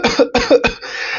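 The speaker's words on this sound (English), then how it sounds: "What I did is sudden and intense bout of coughing" A quick burst of three harsh paroxysmal coughs close to the microphone, one after another, trailing into a breathy rasp.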